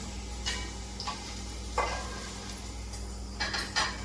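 Fried country potatoes are scooped out of an oily pan in a home kitchen, with a few scraping and clinking utensil strokes over a constant hiss from the hot pan and steady low hum.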